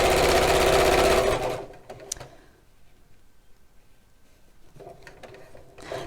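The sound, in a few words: sewing machine stitching fabric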